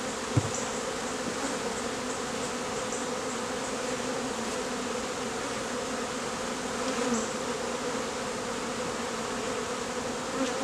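Honeybees buzz around a hive during a swarm rescue in a continuous, fairly soft droning hum with occasional nearer passes, and no voices are heard.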